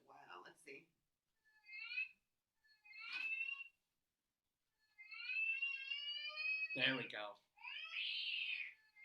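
A house cat meows several times in short, high, tonal cries, close by, with a person speaking briefly in between.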